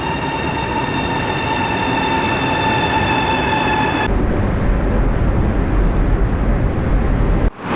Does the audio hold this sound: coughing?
no